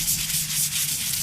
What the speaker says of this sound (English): Soft bristle denture brush.